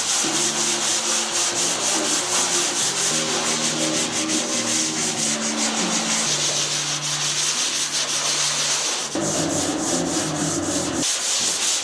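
Steady rubbing and scraping of sandpaper over body filler on a 1993 Nissan Hardbody D21 minitruck, a continuous close abrasive texture with rhythmic strokes and a brief pause near the end, no talking.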